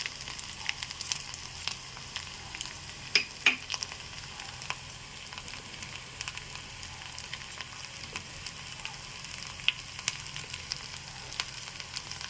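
Urad dal frying in hot oil for tamarind pickle gives a steady, close sizzle with scattered light crackles and pops, continuing evenly throughout with no voices.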